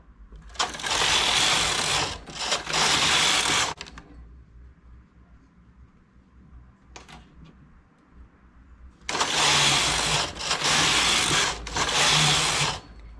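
A home knitting machine knits straight rows of medium Tex 235 silky yarn for a slipper: two long, loud whirring carriage passes with a quiet gap between them.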